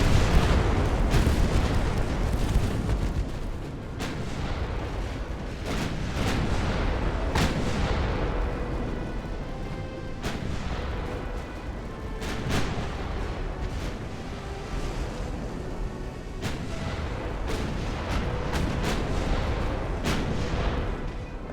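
Warship gun turrets firing in Ultimate Admiral: Dreadnoughts, an 1890-hull ship carrying 10-inch guns. Heavy booming salvos repeat irregularly over a steady rumbling battle din, loud throughout.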